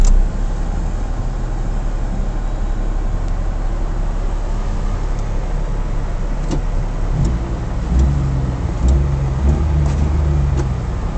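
A 1991 Daewoo Tico's engine starts and keeps running, a steady, dense mechanical rumble with a few sharp clicks near the end and no voices.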